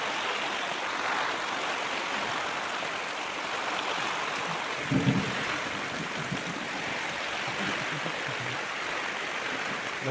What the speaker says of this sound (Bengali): ভালো বৃষ্টি হচ্ছে, সাথে ঝড় হালকা পাতলা।